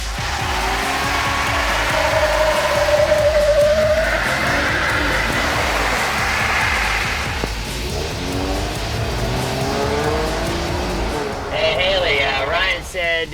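A 2017 Jeep Wrangler Rubicon with Deegan38 armor driven hard, its engine roaring loudly and continuously with tire squeal and skidding, while people talk over the noise.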